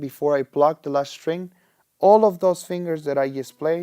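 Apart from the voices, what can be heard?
No everyday noise stands out behind the speech.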